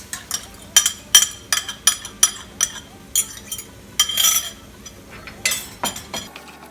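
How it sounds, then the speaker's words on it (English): Beaten eggs being added to nettles cooking in a pan, heard as a series of sharp metallic clinks and scrapes of a utensil against the pan in an uneven rhythm over a faint background hum. "And then I'm going to add the eggs mixed in and let that cook"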